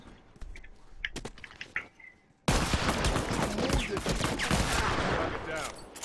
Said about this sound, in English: Good old frontier rifle.